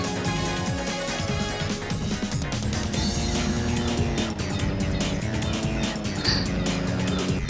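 Racing engine of an 800-horsepower car in a street racing video game, a dense, steady roar with shifting revs running continuously at high level, with no pauses or other sounds standing out.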